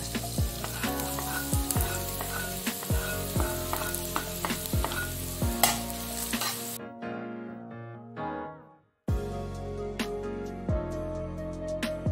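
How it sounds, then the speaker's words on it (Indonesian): Green onions frying in a hot pan give a steady sizzle, with clinks and scrapes of a utensil stirring near the pan, broken by a short quiet gap before the sizzle resumes. "kita goreng bawang daunnya ya"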